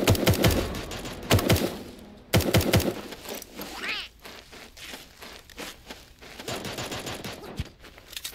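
Bursts of automatic gunfire in a shooter video game, loud rapid volleys early on, then scattered shots, footsteps and quieter firing, with a voice occasionally heard.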